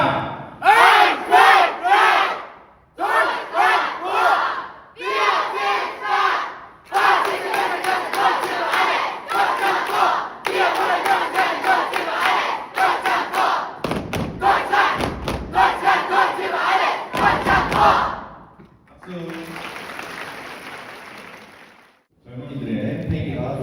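A crowd of high school students at a freshman welcoming assembly shouts a loud, rhythmic group cheer chant in bursts, ending with an announcer's voice and a sharp burst of noise.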